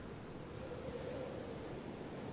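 Ocean waves in the Lost Odyssey video game, a soft, steady wash of surf noise with a faint tonal murmur running through the middle, low in level and continuous.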